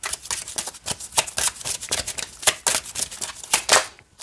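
Close, crisp oracle card shuffling: a quick run of papery riffles and flicks repeating steadily for several seconds, with no voices.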